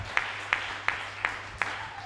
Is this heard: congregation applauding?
yes